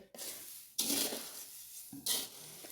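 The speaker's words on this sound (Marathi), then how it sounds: "असं चिवड्याला चांगलं हलवून घ्यायचं" Roasted chivda being stirred in a pan off the heat, with two or three loud, dry scraping sweeps that rustle the flakes, separated by quieter gaps and heard up close.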